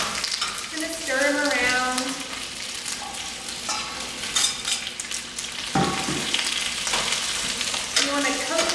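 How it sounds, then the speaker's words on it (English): Green beans sizzle in olive oil and garlic in a skillet, stirred with scraping, clattering strokes that come in bursts over a steady close frying hiss. "Just going to stir them around"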